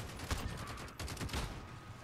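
Enemy gunfire in Modern Warfare: a rapid series of shots fired in quick succession, moderately loud, with a player talking over them.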